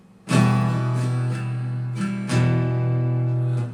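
Acoustic guitar strummed in a rhythmic pattern, a few ringing strokes with deeper bass notes at the start, played close and alone.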